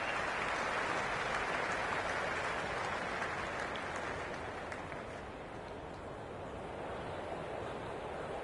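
A cricket crowd applauds at the start of the match, a broad, distant wash of clapping and cheering that holds steady, then eases slightly and lingers, with no one speaking over it.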